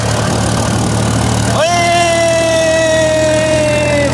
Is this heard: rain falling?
no